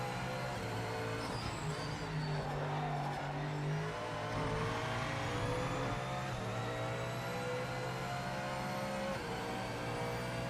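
A Mustang race car engine in the Project Motor Racing video game drones at sustained high revs, loud and continuous, with faint shifting pitch and other cars blended in.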